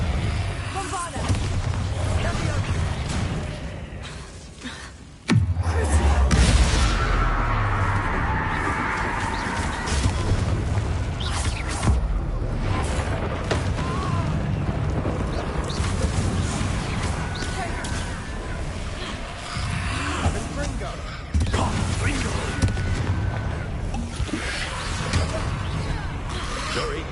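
A Bombarda spell explosion in a Hogwarts wizarding video game: one deep, loud boom rolls out, followed by sustained crashing, rumbling battle noise, with voices talking over the action.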